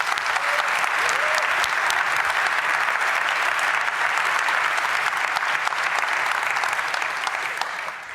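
A conference audience claps in sustained, dense applause that stays steady and loud for several seconds before starting to fade at the very end.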